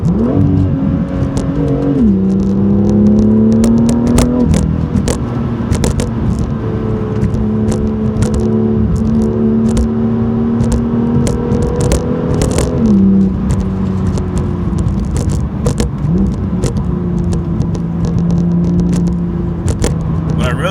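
A 2018 BMW M2 with M Performance parts accelerating hard through a tunnel, the engine note climbing through rising revs with quick shift breaks, loud and reverberant throughout, with a voice faintly over it.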